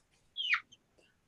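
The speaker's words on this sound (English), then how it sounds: "I hear the real chickens here." Chickens in a big red barn give a short, close cluck with a quick falling squawk, followed by a few fainter chirps, with no talking.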